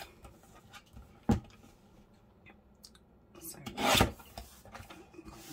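Scissors cut strips of paper for a junk journal, giving two crisp snips spaced a few seconds apart. Soft rustling and handling noises fill the quiet gaps.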